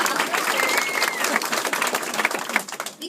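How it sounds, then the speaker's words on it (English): A crowd at an Allentown political rally claps in a dense burst that thins and grows patchier toward the end, with faint voices mixed in. "you can clap for that"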